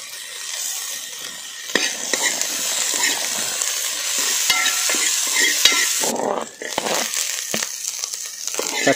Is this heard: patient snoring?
no